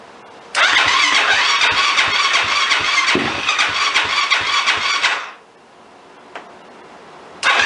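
A Yamaha YFZ quad with a newly replaced timing chain cranks over in a loud, steady buzzing whir for about five seconds, then cuts out. Brief knocks follow, and a second crank begins at the very end.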